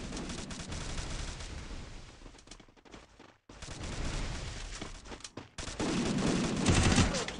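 Rapid automatic gunfire from a 4 vs 4 shooting video game, dense bursts of loud shots running almost throughout, with a short pause in the middle and an especially heavy volley near the end.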